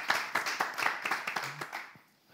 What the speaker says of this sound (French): On va la raccompagner avec des applaudissements.